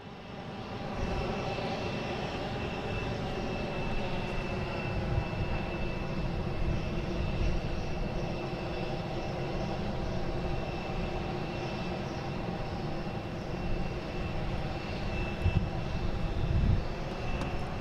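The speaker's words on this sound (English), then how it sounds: "taking off this Delta, heading to Atlanta." A Delta airliner bound for Atlanta takes off at Boston Logan International Airport, its jet engines producing a loud, sustained roar with a steady high whine that holds throughout, with no talk.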